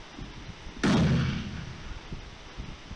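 A single heavy bombardment explosion in the PUBG Mobile video game, a sudden loud boom with a rumbling tail that fades over a second amid faint background noise.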